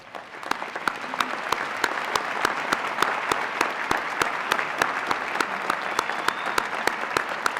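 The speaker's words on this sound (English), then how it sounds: "allow us to recognize you with a round of applause" A university commencement crowd gives a round of applause, a steady wash of many hands clapping at moderate distance, with a few sharp, regular claps standing out above it.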